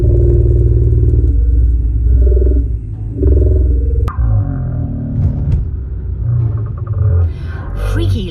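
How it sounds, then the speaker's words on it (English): Strange, deep growling rumble coming through a car radio, a heavy low drone that shifts and breaks into clattering, crackling noise partway through, loud and close with no talking. "Freaky, like strange, deep growling animal sounds."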